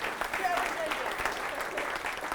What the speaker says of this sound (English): Give them a louder round of applause